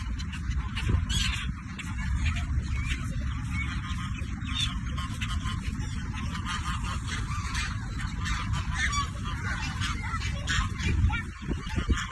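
Geese honking repeatedly at close range amid a busy outdoor clamor of other fowl at a lake park in Abu Dhabi, continuing throughout.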